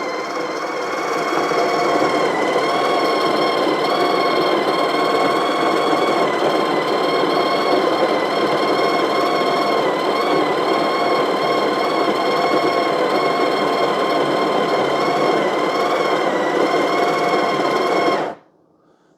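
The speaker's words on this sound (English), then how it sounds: "So activate the grinder." The built-in grinder of a Breville BES870XL Barista Express grinds coffee beans with a loud, steady, buzzing whir that runs unbroken for about eighteen seconds before cutting off abruptly.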